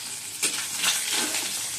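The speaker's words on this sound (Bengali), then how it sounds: "মাছগুলো একটু হালকা হালকা করে ভাজছি" Hilsa fish frying lightly in hot oil, a short steady sizzle with a soft stir or shift partway through.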